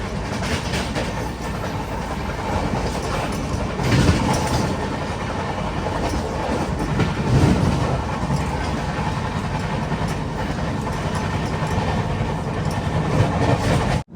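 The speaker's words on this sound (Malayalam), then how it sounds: "ട്രെയിൻ ഇപ്പം 110 km/h തന്നെയാണ് പോയിക്കൊണ്ടിരിക്കുന്നത്." Inside a 3AC coach of the Shraddha Sethu Express at 110 km/h, a loud unbroken rumble of wheels and rails fills the space, with recurring clatter and swells of track noise.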